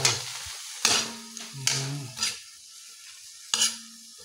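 Pancit noodles with soy sauce are stir-fried in a pan: a few sharp scraping stirs and clanks come in separate bursts over a soft, intermittent sizzle, with quiet gaps between them.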